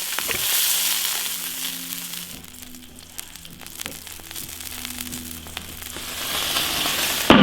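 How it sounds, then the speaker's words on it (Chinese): Rooster chicken frying in an iron wok gives a continuous close sizzle and hiss, with scattered scraping and clinking from stirring and a low hum underneath. "炒香，加点水。"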